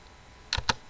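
Keys on a laptop or PC keyboard are pressed twice in quick succession while typing with an Urdu keyboard layout on Windows, two crisp close clicks over a quiet background hiss.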